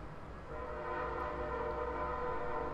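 A train passes near a house, a steady loud horn blast sustained over low rumbling, no talk.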